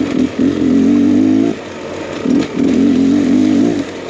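A 2023 Beta X Trainer 300 dirt bike engine revs loud and close, holding high with a wavering pitch, dropping briefly, then revving up again.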